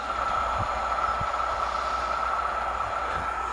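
A railway track tamping machine running steadily with a constant mechanical drone and a high tonal whine, with faint low thumps and no break in the sound.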